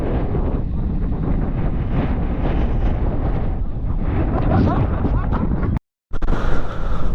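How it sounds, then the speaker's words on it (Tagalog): Strong gusty wind in Infanta, Quezon roars and buffets the microphone in a constant heavy rumble, briefly cutting out near the end before resuming, with voices partly buried beneath it. "Grabe hangin ngayon"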